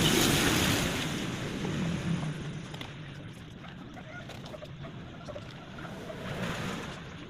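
Strong gusty wind buffets the microphone, a loud rushing roar that eases and swells again, with faint rustling underneath.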